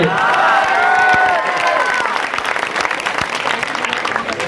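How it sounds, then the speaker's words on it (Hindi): Dense applause from a crowd at an outdoor election rally for an independent candidate in Indore's Chandan Nagar, loud and continuous with some cheering, while a voice is heard over the clapping in the first seconds. "तालियां तो आप लोग बहुत बजाते हो"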